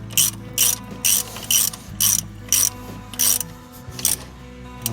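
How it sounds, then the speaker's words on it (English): A torque wrench ratchets while tightening the wheel lug nuts on a Chevy Colorado ZR2 during a rotor replacement, producing about ten loud, evenly spaced ratcheting bursts close to the listener, each with a short pause between. "it off with the torque wrench to make sure that we get them torqued to spec"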